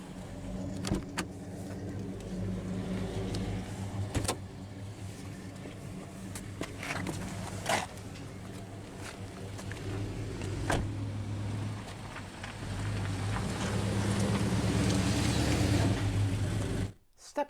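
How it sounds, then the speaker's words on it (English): A 2021 Subaru Impreza Premium's fully automatic driver's power window lowers with a steady electric motor hum, heard close up inside the car, ending abruptly with a faint click near the end. "But now we'll go ahead and roll down the driver's window"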